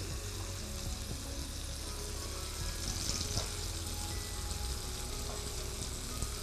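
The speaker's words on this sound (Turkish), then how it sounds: "Evet ciğerlerimiz gayet güzel pişti." Liver sizzling steadily in a hot pan with plenty of garlic and bay leaf, a dense continuous crackle and hiss at close range with no talking.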